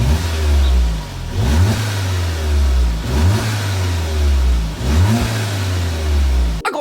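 A VW Scirocco engine with its stock exhaust revs repeatedly from idle, rising and falling in about four loud close surges with a steady rumble between them.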